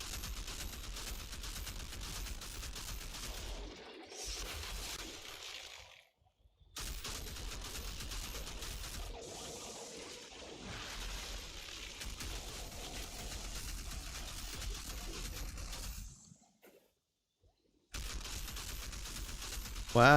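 Rapid video-game gunfire aimed at a Wendigo, bursts of shots rattling in dense runs broken by a few sudden silent gaps, with a voice talking at times over the shooting.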